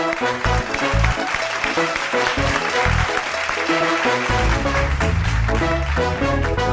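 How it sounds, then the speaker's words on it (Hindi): An audience applauds steadily while loud, upbeat music plays over the clapping throughout. "आपकी तालियों में please welcome doctor Farooq Sattar."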